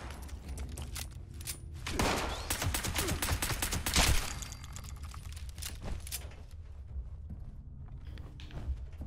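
Rapid bursts of 10mm pistol fire in the video game Fallout 76, a string of close, sharp shots clustered in the first half and tapering into scattered reports, with no talk over them.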